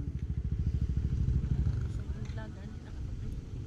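A motorcycle passes nearby with a deep, pulsing engine rumble that swells over the first two seconds, then eases to a lower, steadier drone.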